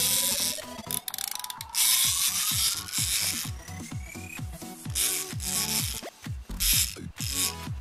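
A wind-up toy dinosaur's mechanism ratchets and whirs, a rapid series of clicking, grinding pulses with a rising spring whine, close and fairly loud, stopping briefly between bursts.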